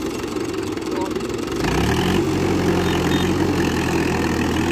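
A 45-year-old tractor engine chugs at idle, then throttles up into a louder, deeper, steady roar that holds for several seconds.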